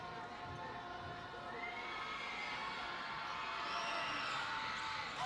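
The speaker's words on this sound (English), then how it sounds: "This Waco High crowd is getting testy and loud." Crowd in the Waco High gymnasium during a close high school basketball game, a steady, loud wash of cheering and shouting voices with whistles and shrill calls rising toward the end.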